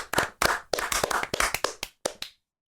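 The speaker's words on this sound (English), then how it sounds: "Now, round of applause." A small group claps in short uneven bursts, sharp close slaps separated by brief gaps, fading out into silence near the end.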